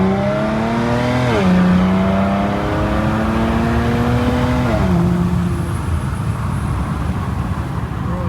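A car engine revs hard through the gears, its pitch climbing, dropping at a shift and climbing again, loud and close with road rumble underneath.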